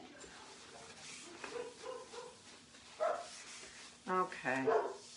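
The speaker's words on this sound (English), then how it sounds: "So sorry about the barking." A young puppy that has been growing fast barks a few times in quick bursts near the end of the clip, preceded by softer yips or whimpers, with a person talking underneath.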